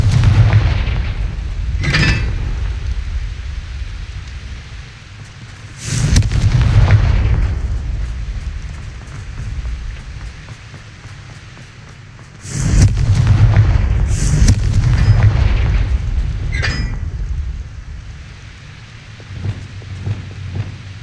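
Booming Confringo blasting-spell explosions from the video game Hogwarts Legacy, three heavy bursts with rumbling tails separated by quieter stretches, plus sharper crackles between them.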